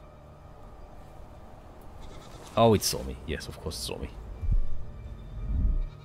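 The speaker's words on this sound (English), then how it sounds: "Okay, goats." Goats on an island in a survival video game bleat several times in quick wavering cries close by, with a person talking over and between the calls.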